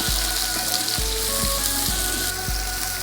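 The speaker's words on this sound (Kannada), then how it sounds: "ಆನಿಯನ್ ಟ್ರಾನ್ಸ್ಲೂಸೆಂಟ್ ಬರೋವರೆಗೂ ಫ್ರೈ ಮಾಡ್ಕೊಬೇಕು." Onions frying in hot oil for Gowdru-style biryani give a loud, dense, continuous sizzle up close, with repeated low thumps as the pan is stirred.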